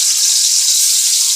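Chopped garlic hits hot oil in a pot for aloo pulao, a loud dense hiss of sizzling that holds steady through the short moment with nothing else heard.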